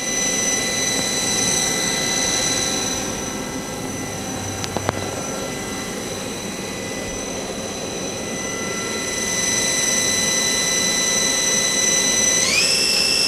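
Main spindle of a Star SV-32J Swiss-type CNC lathe spinning at speed, a steady loud tonal machine whine with a pitch shift near the end, no talk.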